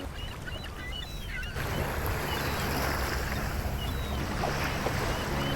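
Heavy rain over the sea at Phi Phi Island, Thailand, begins as quieter surf and wind, then becomes a dense, steady hiss of downpour on water, close and enveloping.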